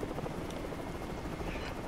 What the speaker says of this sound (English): we're getting in the helicopter, Wes and I.